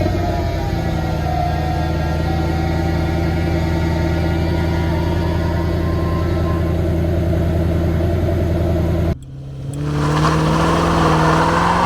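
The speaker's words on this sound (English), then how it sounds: "Let me give you guys a little cold start, pull the car out" A 2005 Mercedes CLK55 AMG coupe cold-starts, settling into a loud, steady, deep idle with a rough pulsing rumble, then a sudden dip and shift in tone as the engine note changes near the end.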